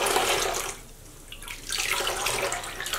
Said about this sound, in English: I'll make sure that the water runs clear.